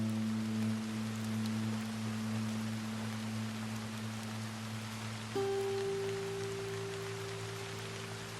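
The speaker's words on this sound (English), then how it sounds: "I hear rain." Steady rain hisses as a constant broadband wash, with a low electrical hum and steady tones running beneath it, and no voices.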